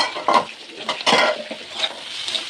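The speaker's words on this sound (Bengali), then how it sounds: "ভালো করে নেড়ে নেব।" Sushni greens are stirred in a cooking pan with a utensil, making close scraping, clattering strokes in an uneven rhythm, with a soft sizzle underneath and no talking.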